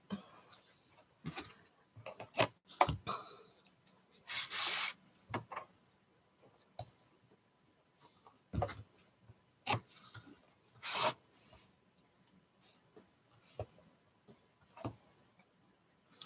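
Score tape being pulled and handled during a painting project, heard as scattered close, quiet bursts of tearing, rubbing and clicking separated by near silence.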